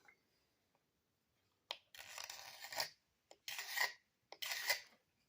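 A Cutco knife blade scraping along wood in three separate rasping strokes, each about a second long with short pauses between, close and fairly quiet.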